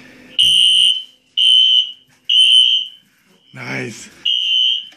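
A newly installed fire alarm sounds during a test, giving three loud, steady electronic tones with short gaps, then a burst of voice or noise, then a fourth tone.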